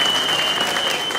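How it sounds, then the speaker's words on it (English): Audience applause at a comedy show, a steady dense wash of clapping that fills the whole moment, loud and continuous with no talking over it. "give her a round of applause"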